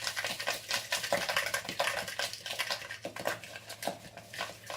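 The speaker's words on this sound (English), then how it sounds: "whisk it" Sugar and cinnamon whisked together in a bowl, a fast run of scraping, ticking strokes against the bowl that stays steady and close for several seconds with no talking.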